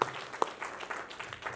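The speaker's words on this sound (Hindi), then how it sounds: "जोरदार ताली दीजिए" Audience applause at an award ceremony, a fairly soft, diffuse spread of clapping that rises sharply at the start and again briefly before settling into an even wash, with a faint murmur of voices underneath.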